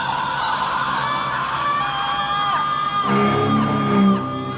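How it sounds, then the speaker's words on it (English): A woman's long, high, strained screams, loud and close, rising and wavering over a dense noisy background. "And she was screaming, a sound that chilled him to the bone."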